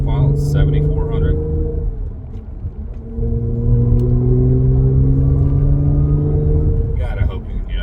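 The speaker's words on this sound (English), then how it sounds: "God, I hope you can hear that supercharger whine." A tuned Audi B8.5 S4 with a supercharged engine and Jackal tune runs under load, a steady mechanical drone and rising whine that hold for several seconds, close and fairly loud, with brief voice-like bursts near the start and end.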